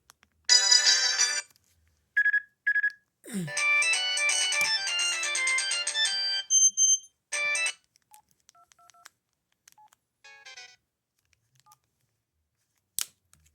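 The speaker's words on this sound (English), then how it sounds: "Let's play one ringtone" A Sanyo VI 2300 mobile phone plays bright electronic ringtone tones in short bursts, then a longer melodic phrase, followed by sparse beeps and quiet gaps; the phone's battery is low.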